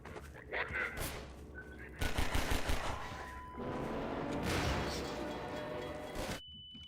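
Enemy gunfire in Half-Life 2 cracks in rapid bursts and volleys, loud and close, with crashes and shifting in-game noise between them and a quieter stretch at the end.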